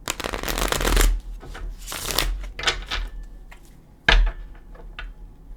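Tarot cards shuffled right next to the microphone, with loud riffling bursts and papery flutters in uneven waves, separated by brief pauses and ending in a sharp tap and a few softer shuffles.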